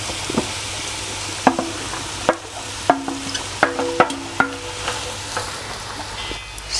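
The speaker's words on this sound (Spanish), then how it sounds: "Moveremos un poco todo y lo vamos a dejar sofreír con el fuego bajito" Chopped onion, leek and red and green peppers sauté over low heat in a pan, with a soft background sizzle broken by a series of sharp spatula knocks and scrapes against the pan.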